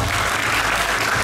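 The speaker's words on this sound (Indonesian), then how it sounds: "Tepuk tangan boleh dong untuk kita semua." Audience applause at a high school band festival in Banyumas, a steady dense wash of clapping that stays loud and even for the whole short stretch, with no voices over it.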